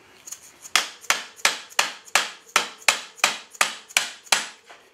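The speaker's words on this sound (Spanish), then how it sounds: "con un martillo de hule, como este que es más o menos un hule suave" A soft rubber mallet pounds a handlebar into place on a Suzuki DR650 motorcycle, striking about eleven times in a steady, evenly spaced rhythm. Each blow is close, sharp and dull-edged, with no voices.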